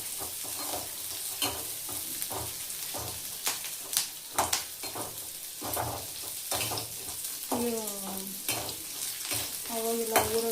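Food frying in a pan, stirred with a utensil in repeated scraping strokes over a steady sizzle; several sharper clinks and scrapes stand out, with a brief tonal squeak near the end.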